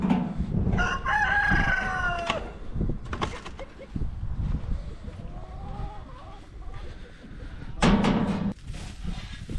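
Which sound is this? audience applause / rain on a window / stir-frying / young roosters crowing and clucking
young roosters crowing and clucking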